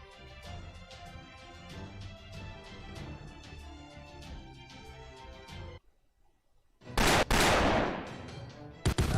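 Gunfire in the mobile game Fate/Grand Order, first as a rapid run of shots over background music, then after a short lull as loud, dense bursts of blasts.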